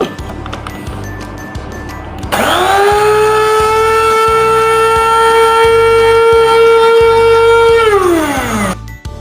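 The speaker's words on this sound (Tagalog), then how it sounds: "Ayan na po yung itsura kapag nagiling na po natin siya na grinder sa food processor." A food processor grinds dried moringa (malunggay) leaves into powder, its motor whining loudly and steadily for about six seconds after a burst of startup, then winding down, with rhythmic thumping underneath throughout.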